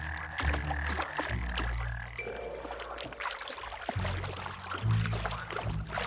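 Cane toads croaking, a low rumbling chorus mixed with watery splashes and pouring sounds, fairly faint and continuous with scattered louder croaks.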